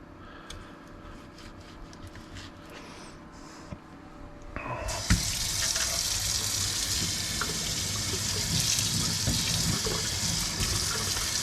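Tap water gushes steadily into a kitchen sink while knives are rinsed after cooking chorizo and eggs, starting after a quieter stretch of faint clatter and continuing loud and close to the end.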